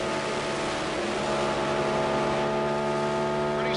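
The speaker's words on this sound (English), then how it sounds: "Yeah, but listen to the engine." Eddie Cheever's IndyCar engine during the Samsonite 200 race at Pikes Peak, a loud, constant droning whine held steady throughout with no pauses.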